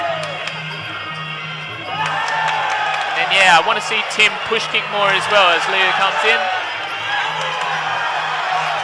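A crowd at a kickboxing fight in Curtin Stadium cheers and shouts in bursts that swell and fall, while a commentator talks over the noise throughout.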